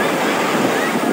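Sea waves at Teluk Batik beach roll in as a steady, close broadband surf roar, with wind rushing across the microphone the whole time.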